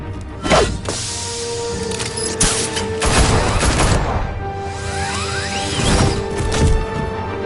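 Gunfire in a Batman video game, bursts of shots and heavy impacts with crashes and thuds across a continuous action scene, loud and close over background music.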